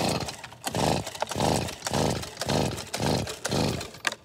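A Stihl leaf blower's small two-stroke engine is pull-started again and again, giving about seven rhythmic raspy bursts that cough and sputter without catching, loud and close with no talking.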